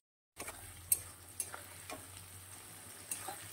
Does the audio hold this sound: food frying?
yes